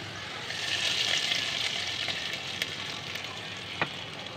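Browned fried onions hit a pot of letka khichuri with meat and vegetables, setting off a steady, bright sizzle with a few sharp clicks from a utensil.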